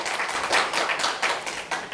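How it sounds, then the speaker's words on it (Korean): Audience clapping during a speech workshop, a brief spatter of hands clapping at moderate loudness from a small group, uneven and short. "박수 한번 쳐주세요."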